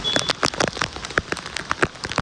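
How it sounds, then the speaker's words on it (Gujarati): Steady rain pattering hard on a surface, dense drops falling continuously close by with no voices. "વરસાદ ચાલુ જ છે"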